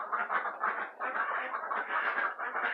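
Frizzle chickens in a mixed backyard flock with Silkies and Easter Eggers cluck in a quick, continuous run of murmuring calls, close by and moderately quiet.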